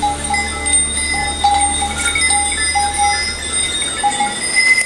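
A flock of about 80 goats and sheep in the Serra da Estrela mountains, their bells clinking and ringing continuously at varied pitches over a steady low rumble of movement.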